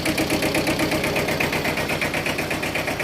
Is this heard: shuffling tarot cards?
no